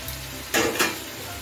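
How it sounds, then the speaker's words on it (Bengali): Tomatoes with salt cooking in a pan over gas and being stirred, heard as a soft sizzle broken by two brief, close scraping strokes. "নুন দিয়ে নেড়ে চেড়ে টমেটোটা ঢাকা দিয়ে দিব নরম হওয়ার জন্য।"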